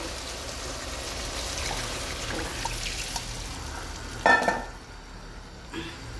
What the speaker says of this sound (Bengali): এবার আমি গরম পানি দিয়ে দিব।